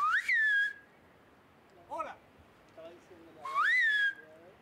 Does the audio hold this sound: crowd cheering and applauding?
no